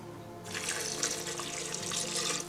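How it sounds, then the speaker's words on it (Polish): Hot chicken broth, about 400 g, is poured into a mixing container for an Indonesian bihun soup: a steady, close splashing rush that starts abruptly and runs evenly to the end, with no talking. "400 g gorącego bulionu drobiowego."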